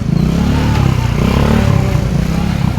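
Steady motorcycle engine drone close by on a narrow, crowded street, continuous and loud, with faint clatter and a busy street bustle mixed in.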